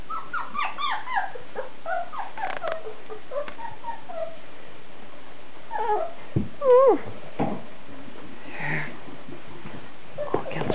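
Young Berger Picard puppies whimpering and whining in a forest, a series of thin high squeaky cries clustered at the start and scattered later, fairly close and faint, with some sniffing and rustling between them.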